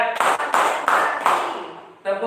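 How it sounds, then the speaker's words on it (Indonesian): A group claps hands in unison during an ice-breaking exercise, four distinct bursts of clapping in a steady counted rhythm, close and fairly loud, with a voice leading the count. "Yo, tepuk tangan."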